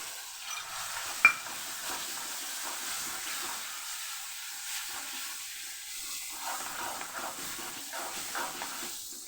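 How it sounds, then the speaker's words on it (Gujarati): Spiced curd masala with onions, ginger and chilies sautéing in oil, a soft steady sizzle and hiss with light scraping of a spoon stirring the pan, faint and close throughout. "સતત હલાવતા રહેશું અને તેલ છૂટું પડે ત્યાં સુધી આપણે આને સાતળવાનું છે"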